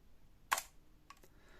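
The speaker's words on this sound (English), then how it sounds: "So that's the" A 1962-era Zenit 3M 35 mm SLR film camera being handled, with one sharp mechanical click and ratchet near the mic, then a couple of fainter clicks from the film advance lever in a quiet room.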